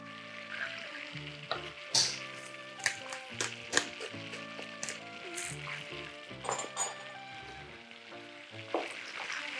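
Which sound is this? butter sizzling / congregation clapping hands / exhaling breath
butter sizzling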